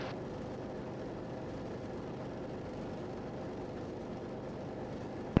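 Steady, even engine drone from a Raptor prototype aircraft taxiing toward the North Ramp along taxiway Alpha, a continuous mid-level rumble with no voices, ending in a brief louder bump.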